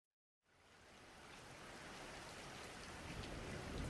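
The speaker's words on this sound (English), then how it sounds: "It's a rainy, windy, stormy night." Heavy rain and wind on a stormy night, starting abruptly after a brief silence and then building into a dense, steady roar that grows slightly louder toward the end, with no voices.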